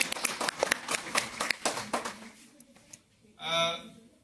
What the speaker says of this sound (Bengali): তাদের জন্য একটা হাততালি হবে, জোরে একটু জোরে।